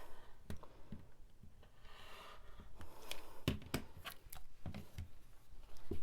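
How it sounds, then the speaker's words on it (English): Scissors snip through quilting fabric to cut out a small hexagon shape: a quiet series of short, crisp cuts in uneven bursts, some spaced apart and some quick in succession, close by, with light handling rustle between them. "Hold it in place and cut the remaining 3 sides."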